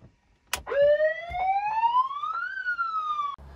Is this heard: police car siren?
yes